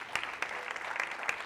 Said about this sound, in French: qu'on peut applaudir s'il vous plaît